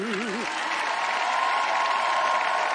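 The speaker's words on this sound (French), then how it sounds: "on l'applaudit très fort." An audience applauds a singer at a Valentine's Day TV show, steady, dense clapping filling the room, with a short sung note fading at the start.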